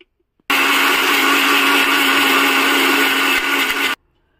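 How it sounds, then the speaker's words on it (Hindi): A mixer grinder blending banana roars loudly and steadily for about three and a half seconds, starting and stopping abruptly, with a strong motor whine. "अभी दिखाती हूँ पीस के लेके आती हूँ, पहले मैं मिक्सी पे लगा के फिर दिखाएंगे आपको"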